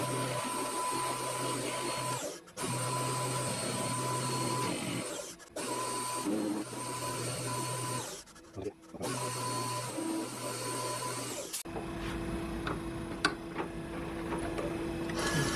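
A metal lathe machines a self-ejecting drawbar, giving a steady mechanical whir and hum in several long runs broken by brief pauses, then shifting to a higher, thinner steady tone near the end. No one speaks.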